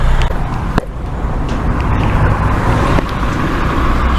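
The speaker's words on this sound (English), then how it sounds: "I think the engine's running too" A parked car's engine idles steadily close by, a low continuous rumble with faint roadside traffic noise and a couple of brief clicks, no voices.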